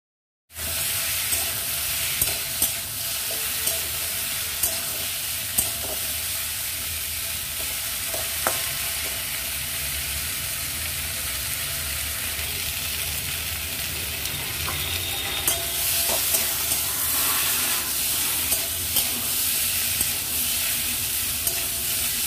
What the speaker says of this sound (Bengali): সবজিগুলো আমার ফ্রাই করা হয়ে গেছে